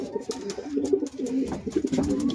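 A racing pigeon coos continuously at close range, its low throaty rolling calls repeating over faint background noise.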